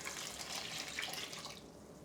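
Water pours steadily from a tap into a pot or bowl for homemade birria, a continuous close splashing stream that tapers off near the end, with no talking.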